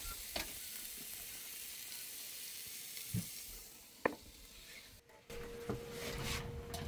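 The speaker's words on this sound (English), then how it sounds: "we've got pork chops and steaks cooking on the grill" Pork chops and steaks sizzle on a campsite grill with a constant close frying hiss, broken by a few sharp clanks and scrapes of utensils, and no voices.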